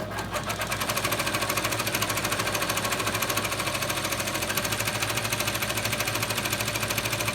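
A Brother 9-needle embroidery machine stitches at speed, a steady loud mechanical whirring with fast, even rhythmic needle clatter running continuously and close, with no talk.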